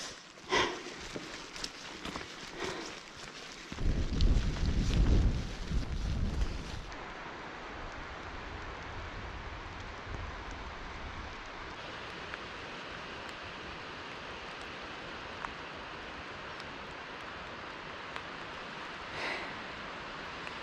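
Wind gusting along the rocky Isle of Arran coast in Scotland, with a loud roaring burst partway through and then a steady low hiss of waves and breeze; no one speaks.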